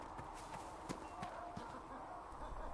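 Horses' hooves clip-clop faintly and steadily in Dragon Age Inquisition, a video game, with soft, evenly spaced strikes over a low ambient background.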